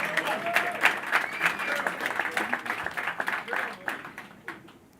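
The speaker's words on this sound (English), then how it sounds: "you could clap for that." An audience at a boxing press event breaks into applause, a dense patter of clapping with some cheering that builds then gradually thins out.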